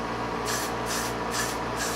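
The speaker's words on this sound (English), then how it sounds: "I'm going to take my hairspray, I'm going to lightly do it, tilt it a little bit more towards me." Hairspray hisses onto a wig in four short, evenly spaced bursts, loud and close, over a steady background hum.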